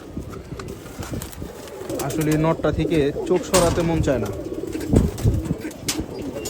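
Pigeons coo softly at a farm pen, several birds overlapping in low repeated calls while someone talks over them nearby.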